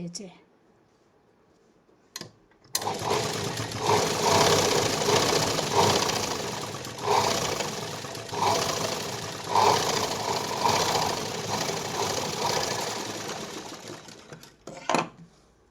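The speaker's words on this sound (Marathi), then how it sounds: "पुन्हा एकदा आपल्याला वरच्या बाजूने दाब शिलाई" A sewing machine top-stitching a patch onto a blouse sleeve, starting after a short quiet pause and then running in a steady, continuous mechanical whir for about twelve seconds with slight rhythmic variations, fairly loud and close.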